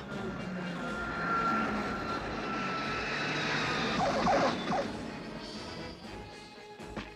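Cartoon Cobra Night Raven drones flying, a loud continuous aircraft-like engine roar that swells and passes, with a sharp burst near the end.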